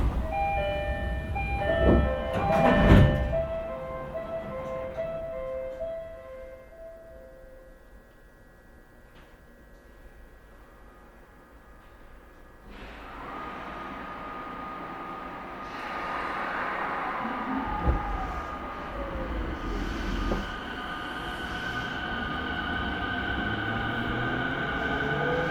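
Onboard a Tokyo Waterfront Rinkai Line 70-000 series train, a station announcement chime fades as the train departs, motor whine rising steadily and wheels rumbling louder as it accelerates along the track.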